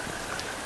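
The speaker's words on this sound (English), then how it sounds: "it's raining." Rain falls steadily in a brief burst of dense, even hiss, produced by NASA test engines making their own weather in Mississippi.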